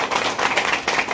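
A seated crowd at a network marketing gathering claps together, a dense steady patter of many hands filling the room at moderate loudness with a brief dip near the end.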